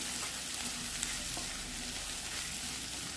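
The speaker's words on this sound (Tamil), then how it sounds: "இந்த வெங்காயம் வந்து நல்லா வதங்கினா" Steady, close sizzling of onions frying in a pan, a continuous crackling hiss with faint stirring scrapes and no voices.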